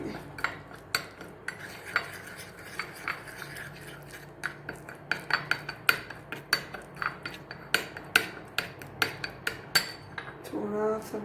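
Spoon clinking and scraping against a bowl while a homemade lemon skin polish mixture is stirred, steady rhythmic taps close by with no talking.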